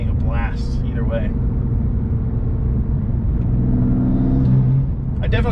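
A BMW M4 engine drones steadily at low pitch, rising into an acceleration hum with a brief turbo intake whoosh on lift-off, while a person talks briefly near the start.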